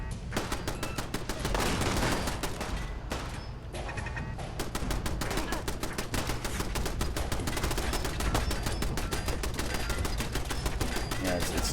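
Dense, continuous automatic gunfire and explosive blasts from a shooter video game, with shrapnel grenades going off amid rapid bursts; loud and busy throughout, with a brief dip near the middle.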